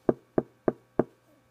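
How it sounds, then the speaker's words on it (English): Four evenly spaced, sharp knocks on a wooden cottage door, close and distinct, with brief quiet between each rap and a faint trailing sound afterward. "I knocked at the door."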